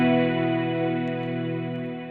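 Electric guitar in a worship rig with its compressor pedal bypassed, a single strummed chord ringing out clearly and decaying gradually over two seconds.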